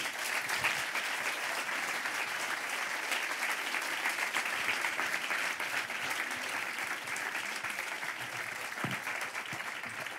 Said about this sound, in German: Applaus bitte.